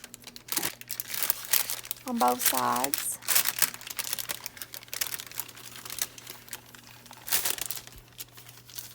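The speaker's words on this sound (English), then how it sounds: "Now here you just loosen up the parchment paper" Parchment paper peeled and loosened from rolled sugar cookie dough, crackling and crinkling in close bursts with a few sharp tearing rasps, while someone talks over it.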